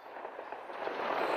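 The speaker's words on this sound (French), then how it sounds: "Quelques minutes avant son intervention, des tirs de DCA ont retenti à Tripoli," Anti-aircraft gunfire crackling over Tripoli at night, a brief dense series of distant pops and bursts building slightly in loudness, heard alone without talk.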